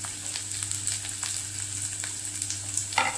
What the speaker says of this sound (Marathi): आता हे गाजर आणि स्वीट कॉर्न भाजून घेऊया